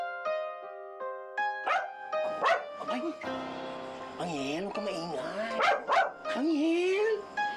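A pet dog barks sharply and repeatedly indoors, mixing yips and whimpers, close and loud, while people talk and shout over it.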